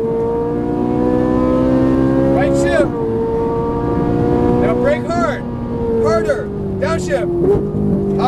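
A Ferrari 458 Italia accelerates on Las Vegas Raceway, its engine droning loud and close with tones that climb through the gears, dip at shifts and surge again, while a voice talks over it.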